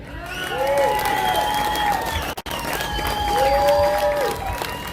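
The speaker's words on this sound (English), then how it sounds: "I'd like you to give him a round of applause" A rally crowd in Iowa cheers and applauds for an organizer named Marcus, loud and continuous for about five seconds, with whistle-like tones rising over the roar and a brief dip midway.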